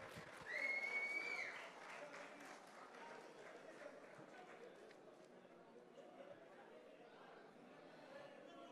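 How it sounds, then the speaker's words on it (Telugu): Fans clap and cheer at an app launch event, with a burst of applause early on that settles into a lower crowd murmur with chatter, heard from a distance and not especially loud. "ఎవ్రీబడి గట్టిగా చప్పట్లు"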